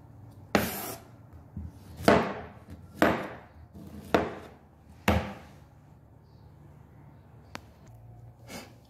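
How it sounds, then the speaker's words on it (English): Tropical fruits such as orange, pineapple and banana are chopped with a knife on a board, giving about six sharp, distinct thuds spaced roughly a second apart, close and clear in a quiet room. "And here we finish chopping."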